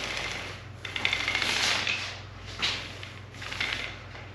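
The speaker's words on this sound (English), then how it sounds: "I roll in all different directions." Soft repeated swishing strokes of a roller spreading Stone Coat epoxy across a surface, rolled in different directions, close and moderately quiet over a faint steady hum.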